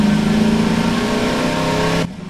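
A video game car engine revs hard and steady with a buzzy, harmonic drone, then cuts off abruptly near the end, leaving a quieter hum.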